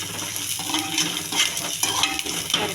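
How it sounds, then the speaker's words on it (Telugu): Onion, curry leaves, chana dal, urad dal and cumin frying in a pan, a steady dense sizzle with scattered light clinks and stirring scrapes, close and loud throughout with no talk. "ఇవన్నీ బాగా వేగించుకోవాలండి."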